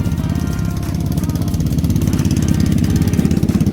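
A Lifan 250 kickstart motorcycle engine idles close by with a rapid, throbbing low pulse that stays steady and loud, with no talk over it.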